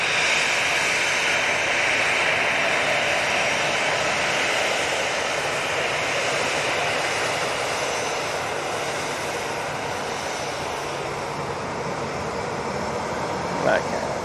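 Jet airliner departing Manchester Airport for Palma de Mallorca, a steady broadband engine roar filling the whole stretch at constant loudness with a brief tick near the end; speech is tagged but no words come through.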